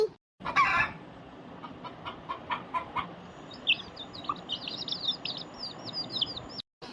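A hen clucks in short bursts nearby in a Tamil village, with high bird chirps and twittering in the background.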